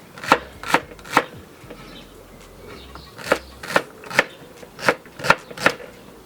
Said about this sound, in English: This is some celery I'm cutting up right here.